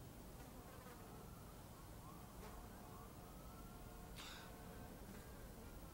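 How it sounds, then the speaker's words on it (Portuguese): Flies buzz in a quiet indoor room, a faint continuous drone with a few sharper passes drifting close. No one speaks. "As moscas?"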